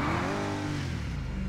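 A Tata Punch car in GTA 5 accelerates at full speed toward a pyramid jump, its engine revving loudly in a short, close, rising whine.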